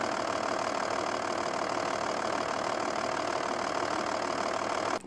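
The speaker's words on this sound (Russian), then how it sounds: "на заведенном двигателе шток вообще не поднимается" A steady, even idle of an Audi A6 C5 2.5 TDI V6 diesel engine with a boost pressure fault, rumbling continuously at moderate volume with a faint rattling texture, cutting off at the very end.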